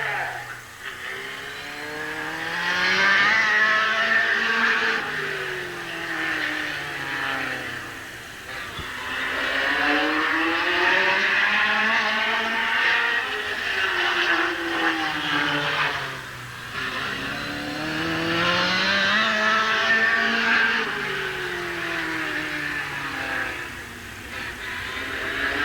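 Stock race cars roar around Midvale Speedway's oval in 1988, engines rising and falling in long sweeping passes as the pack goes by, loud and continuous, with faint announcer talk under the noise.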